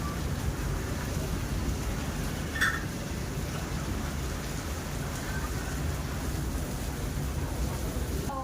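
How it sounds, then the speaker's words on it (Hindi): Heavy rain and hail pour down steadily during a strong storm, a dense constant hiss with a few brief sharper hits, heard alone without talk. "राम जी ने बारिश कर दी है, ओले पड़ रहे हैं"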